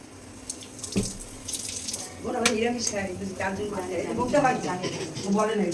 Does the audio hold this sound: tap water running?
yes